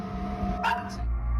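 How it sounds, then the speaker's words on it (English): A single short bark from a dog rises briefly over a humming background, followed by a fainter yip. "The dog just started barking."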